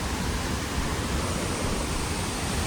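Hiradpada waterfall in Maharashtra rushing steadily, a dense, unbroken roar of falling water heard close and loud with no voices.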